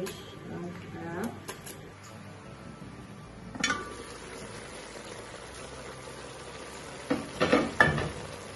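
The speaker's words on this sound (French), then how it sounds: "vais m'occuper des oignons qui vont aller tout à l'heure là dans l'huile rouge" Onions fry in red palm oil with a steady, moderate sizzle, broken by a few clinks and stirring sounds, while a voice is faintly present at times.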